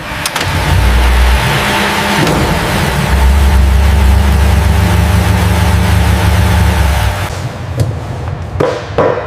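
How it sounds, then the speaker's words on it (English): A Lamborghini engine revs hard toward redline inside the factory, a loud sustained roar with rising and holding pitch that drops off near the end, followed by a few sharp mechanical clunks. "Bring it to redline."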